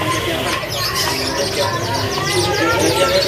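Caged loper-series canaries at a bird market chirp and trill in a dense, continuous chorus, with other birds and low background bustle mixed in throughout.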